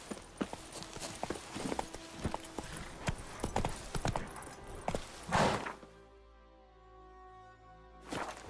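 Roach, a horse in The Witcher 3, gallops in a fast, steady rhythm of hoofbeats for about five seconds, then the hooves stop and the scene falls quiet, with a brief rustle returning at the end.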